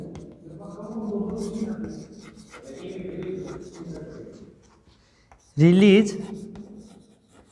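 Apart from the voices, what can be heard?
writing on a board during a lecture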